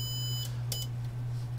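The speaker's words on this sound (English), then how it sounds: "Why is it beeping on the diode?" A Siglent SDM3045X digital multimeter beeps while testing a diode, a high, steady tone twice in quick succession, the first longer, over a constant low hum.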